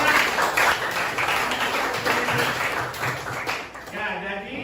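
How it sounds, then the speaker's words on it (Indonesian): Classmates clap in a classroom after a student's presentation, a steady patter of applause that fills the room before fading near the end. "Tepuk tangan, teman."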